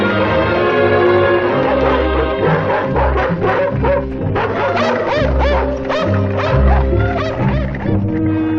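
Several dogs bark loudly and repeatedly close by, a busy overlapping chorus of woofs and yips with a few whimpers mixed in, continuing for the whole stretch.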